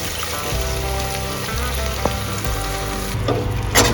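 Ground masala for Dindigul chicken biryani sizzles and spits steadily in a hot pan over a continuous tonal background.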